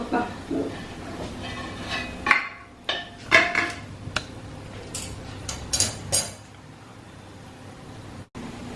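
Metal clanks and scrapes as a batter tin for an Oreo cake is set inside a pressure cooker for baking, a few sharp knocks clustered together, then a quieter stretch; someone talks throughout.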